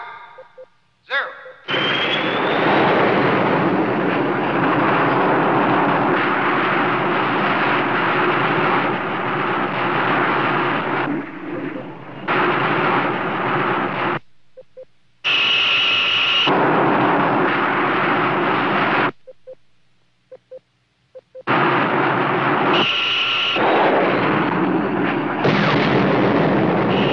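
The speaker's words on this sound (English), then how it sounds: "Counterattack by Hunter-type missile." Hunter-type missile counterattack: sustained loud roaring blasts and rumbling launch noise fill most of the stretch, broken by brief silent gaps and sharp high whining bursts, with scattered voices mixed in.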